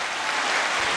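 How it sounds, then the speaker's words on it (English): A brief burst of steady clapping, dense and continuous, alone without talk over it. "I appreciate the applause, man"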